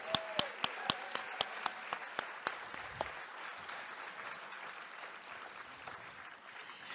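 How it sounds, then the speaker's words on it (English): Audience applause following an evening performance at a community book event, opening with distinct individual claps that quickly blend into steady, moderately distant clapping from a seated crowd. "One more round of applause for Michael."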